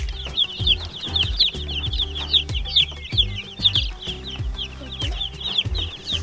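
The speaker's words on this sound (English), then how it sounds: "So these chickens are doing great" Many chickens cluck and chirp together in a busy, continuous chorus close by, with low rhythmic thumps underneath.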